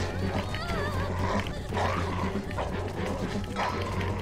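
In The Walking Dead video game, a dog barks and whimpers in short yips over steady game background sound, with someone talking over it.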